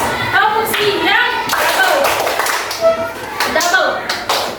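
A school class claps a rhythm game in quick patterned bursts of hand claps and taps, with a teacher and children talking over and between the clapping.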